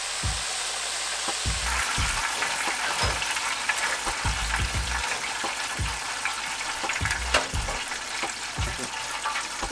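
Chicken for chicken biscuits frying in hot oil, a steady dense sizzle and crackle throughout, with occasional faint clicks and low bumps.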